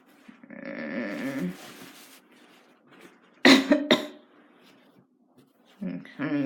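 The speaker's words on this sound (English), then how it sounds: "Looks like you're coughing severely." A short cluster of loud, severe coughs bursts out mid-clip, set between stretches of a person speaking.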